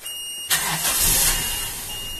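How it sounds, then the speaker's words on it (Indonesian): A Toyota Kijang with a faulty emission control system starts up: the engine catches abruptly and settles into a loud, steady idle nearby. "mobil kita sudah starter"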